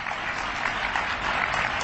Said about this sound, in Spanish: Que se lleven este aplauso para Alemania, que es donde ellos habitualmente viven